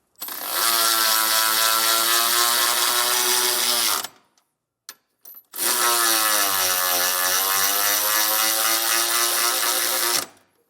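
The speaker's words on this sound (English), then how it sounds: "I'll grab my ratchet and push these up the rest of the way." Powered ratchet with a 17mm socket driving M10 bolts for a B&W Class III trailer hitch on a 2023 Kia Telluride: two long, loud, steady whirring runs separated by a brief pause with small clicks.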